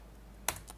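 A single keystroke on a computer keyboard, a short sharp click with a faint second tap just after, alone against quiet background hiss.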